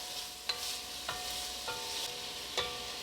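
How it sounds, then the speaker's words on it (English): Onions, garlic and celery sauté in a soup pot with a soft, even sizzle, punctuated by four light spoon taps against the pot. "we are just going to let this first batch of veggies saute for about 3 to 4 minutes"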